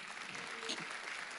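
A church congregation applauds during a sermon, a faint, steady spread of many hands clapping with a few brief sharper accents and no talk on top.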